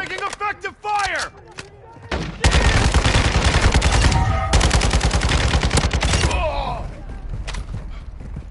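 Heavy sustained video game gunfire, dense rapid bursts roaring close and loud for several seconds, preceded by radio-style speech and fading into quieter shots with voices at the end.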